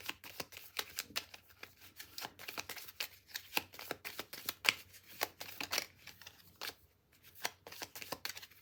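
Tarot cards shuffled by hand nearby: soft, papery riffles and flutters repeat steadily in quick bursts, fairly quiet, with a short pause near the end.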